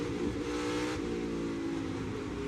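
NASCAR stock car, the number 42 at Nashville Superspeedway, its engine note sustained at a steady loud drone before the throttle eases, with a slight shift in tone partway through.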